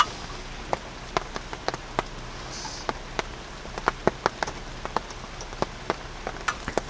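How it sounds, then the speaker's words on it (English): Scattered raindrops tap sharply and irregularly on a van's window screen, quiet ticks and pats over a soft background hush, with no voices. "I hear the rain on the screen"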